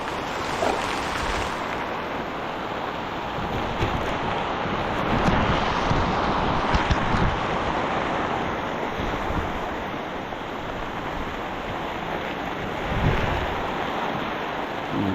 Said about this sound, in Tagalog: Lumagasak ang ulan.